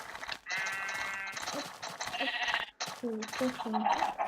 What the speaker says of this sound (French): Tuons ce mouton.